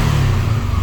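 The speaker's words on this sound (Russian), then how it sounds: "Завелся на ура. Работает ровно, обороты не плавают." A Subaru Legacy BL5 Japanese contract engine, non-turbo with automatic transmission and 4WD, runs at a steady idle, giving a smooth, even low rumble close by with no talking.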